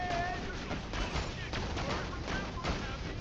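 A deployed turret fires rapidly at enemies in Borderlands 2, its dense, crackling bursts of gunfire running continuously with scattered impacts and chaotic battle noise layered on top.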